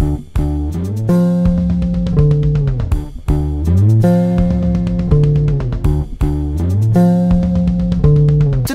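A deep, punchy electric bass guitar plays a riff, repeating in a looping pattern with low sliding notes and busy percussive clicks, loud and upfront with no voices.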